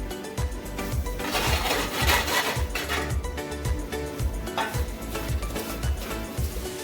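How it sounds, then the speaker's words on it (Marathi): Semolina (rava) roasting in hot ghee for a mango sheera, stirred with a utensil that scrapes the pan in a steady rhythm over a continuous soft sizzle, close up. "आता तुपामध्ये हा रवा छानपैकी असा खमंग असा भाजून घ्यायचा"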